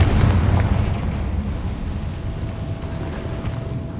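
Confringo spell explosion in Hogwarts Legacy, a loud, deep boom that fades into a rumbling decay over several seconds.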